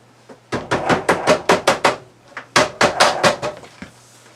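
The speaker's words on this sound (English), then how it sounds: "get your trim turned the right way and snap it back into place" RV refrigerator door trim being snapped back into place, two quick runs of sharp, close plastic snaps and knocks in steady rhythm, about seven in the first run and six in the second, with no talk.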